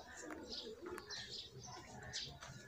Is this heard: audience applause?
no